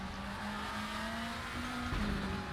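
A Volvo WTCC touring race car in the RaceRoom sim at Salzburgring, its engine droning loudly and steadily at high revs, with a shift and a brief tire squeal near the end.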